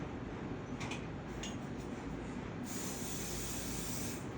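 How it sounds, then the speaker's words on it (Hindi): Holding hair spray hisses steadily onto hair while a low bun is styled, a close, continuous broadband spray that grows brighter and stronger toward the end. "देन हमने होल्डिंग हेयर स्प्रे का यूज करेंगे"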